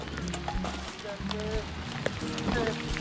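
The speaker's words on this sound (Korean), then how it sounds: "비가 오네요." Rain falling on a fishing platform off Tongyeong, a steady hiss of drops spread through the clip, with people talking over it.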